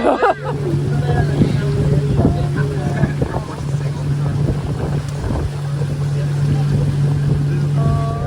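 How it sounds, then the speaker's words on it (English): A motorboat engine drones steadily throughout on a river in the Amazon rainforest, with wind buffeting the microphone and a voice speaking briefly near the start. "We're about to get on a boat for an hour on the river"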